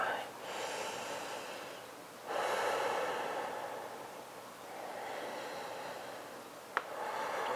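Deep, slow breathing during a yoga stretch, with long airy inhales and exhales rising and falling over several seconds, close and fairly soft, plus one brief click.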